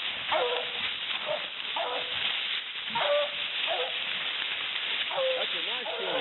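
A hunting dog bays and yips in short repeated bursts at a treed animal outdoors, fairly close, with whimpering between barks and people talking nearby.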